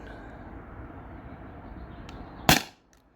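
A single sharp crack from an air pistol, a T4E TR50 or Beeman BP50, fired through a chronograph, sounds near the end after quiet room background, with a short tail.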